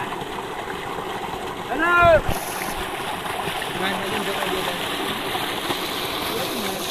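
Water released from Dhari dam flowing along a river, a steady broad rushing wash under a man calling out and talking, with a short louder splash or clatter in the middle.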